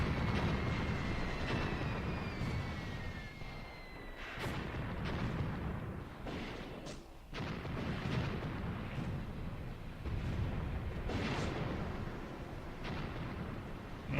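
Light mortar fire in Graviteam Tactics, heard as repeated distant booms and rumbling impacts over a steady battlefield din, with faint whistling incoming rounds early on.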